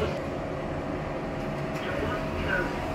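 A Pickering's machine-room-less passenger lift with a stent gate, rated for 21 persons or 1600 kg and built or modernised in 2007, runs with a faint, steady low hum and soft cabin rumble throughout.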